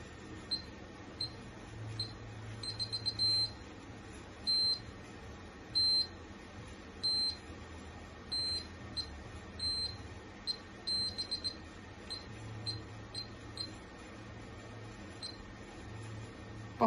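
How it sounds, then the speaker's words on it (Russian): A steady series of short electronic beeps from a security alarm system arming repeats at a regular pace over a low background hum, with no talking. "сейчас попробую встать на сигнализацию"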